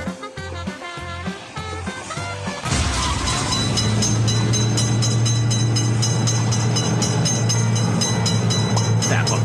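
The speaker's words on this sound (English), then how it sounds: "Train is in sight." In a mobile railroad-crossing simulator game, a short pulsing game-music passage gives way to a loud, steady roar of a passing train with a heavy low drone and rattling clatter.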